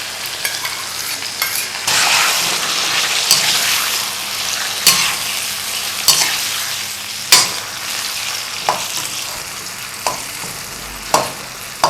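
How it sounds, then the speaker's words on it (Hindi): Tomatoes and spices fry in a karahi while being stirred, a steady close sizzle broken by repeated sharp scrapes and clinks of the spoon against the pan. "इनको उस वक्त तक भूनें जब तक टमाटर जो है ना वो मैश ना कर ले हम अच्छी तरह।"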